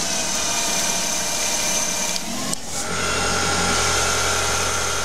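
CNC mini lathe with a half horsepower motor and Minarik driver taking a boring cut, a steady loud machine hum and cutting whine running continuously with a brief dip midway.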